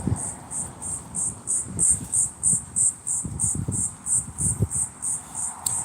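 Crickets chirp in a steady pulsing rhythm throughout, a continuous high insect trill heard alongside low rustling and handling noise close to the recorder.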